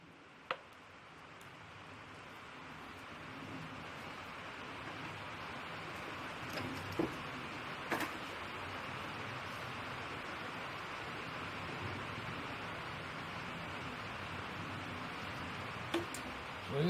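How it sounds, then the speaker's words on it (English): Rain falls steadily on a metal roof, a soft even hiss throughout with a few faint ticks and taps standing out now and then. "Raining on a metal roof."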